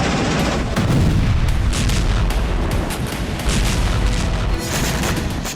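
Artillery fire thunders during a Ukrainian attack in Luhansk: a dense, loud barrage of heavy booms and cracking blasts rolling one after another without pause.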